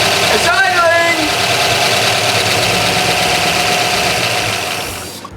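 An abandoned 1966 Ford Mustang GT fastback's engine idling loudly with a rough, uneven chug, a brief voice early on, the engine sound tapering at the end.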